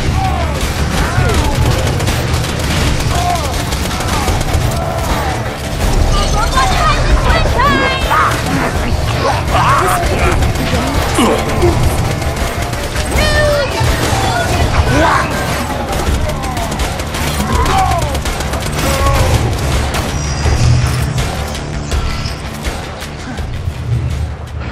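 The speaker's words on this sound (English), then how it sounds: "It's a good explosion here." Dense, nonstop gunfire and repeated explosion blasts from a Borderlands 2 firefight, with grenades going off amid bursts of shooting and crashes, loud and continuous for the whole stretch, with players' voices faintly mixed in.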